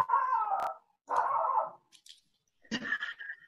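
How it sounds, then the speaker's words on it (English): A dog gives three bursts of barking and whining, two long ones close together and a third after a short gap, moderately loud and close with no talk over them. "Listening to your dog"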